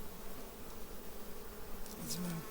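Honey bees buzz steadily around hive frames during an autumn heather and goldenrod honey harvest, a dense continuous drone with a few brief louder passes near the end.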